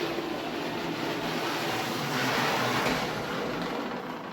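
A model train running on a layout gives a steady, fairly loud rumbling whir that swells slightly midway and continues without pause.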